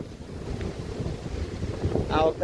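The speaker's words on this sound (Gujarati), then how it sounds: "અત્યારે તો ફૂલ પવન ઉડ્યો છે" Strong gusty wind before a storm blowing hard across the microphone, a low buffeting roar that swells and falls, with a brief faint voice near the end.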